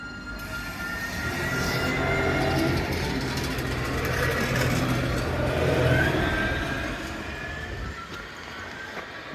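A tram pulls away from the stop at Highbury Vale, its motor and wheel noise swelling and holding fairly loud with rising whines and rumble before easing off.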